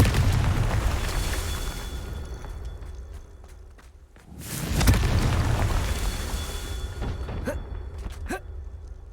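A Confringo fire-spell blast in Hogwarts Legacy, a loud booming burst after a brief lull, followed by crackling pops and scattered impacts amid rumbling ambience.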